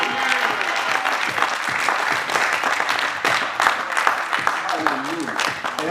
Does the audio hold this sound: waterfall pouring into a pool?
no